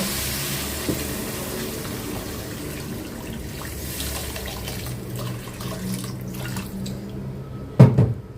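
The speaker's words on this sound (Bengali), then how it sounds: "মশলাটা ভালো করে কষানো হয়ে গেছে এখন হচ্ছে পানি দিয়ে দিব" Water is poured into fish masala frying in a pan, giving a continuous sizzling, splashing hiss that fades toward the end before a sharp clatter near the close.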